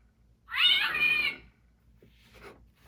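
A cat-voiced Hallmark ornament from National Lampoon's Christmas Vacation gives one loud, drawn-out, unhappy meow lasting about a second, then a softer, brief squeaky trailing sound in an otherwise quiet room.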